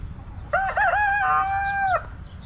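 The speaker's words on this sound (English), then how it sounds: "the chickens are coming around the rooster because he'll cluck a certain way" In a farmyard with chickens gathered around, a rooster lets out a single loud, close crow that rises, wavers and holds before cutting off, heard alone over faint background noise.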